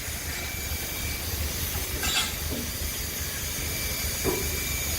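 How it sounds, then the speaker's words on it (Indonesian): Steam hisses steadily from the valve beneath the engine pistons of a jackshaft steam locomotive still operating at a sugar mill in Java, a broad continuous rush with faint knocks, and no voices. "Nah, ini tuas untuk membuka katup yang di bawah piston mesin."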